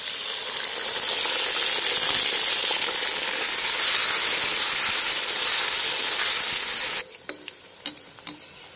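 Potatoes frying in a kazan over a campfire: a loud, close, steady sizzle hisses for about seven seconds, then cuts out, leaving a few light clicks and scrapes.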